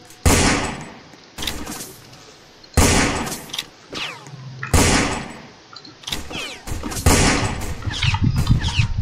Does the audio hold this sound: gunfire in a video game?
yes